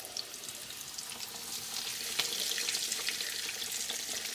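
Two big pork chops frying in a skillet, a faint, steady high crackle and sizzle of hot fat that grows slightly denser partway through, with no talking over it.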